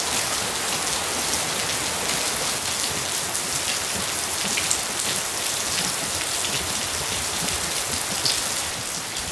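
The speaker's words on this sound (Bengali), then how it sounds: "ঘুম থেকে উঠেই দেখি এইভাবে টানা বৃষ্টি" Steady, heavy rain pours down nonstop in a village in the morning, a dense, even hiss of drops on surfaces with no pauses.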